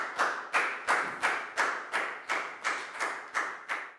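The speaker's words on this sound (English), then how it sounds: "Big round of applause for Pangpon, please, guys." A small class claps together in slow, even unison during an English lesson for children, about ten sharp, evenly spaced claps, close and moderately loud, each ringing briefly in the room.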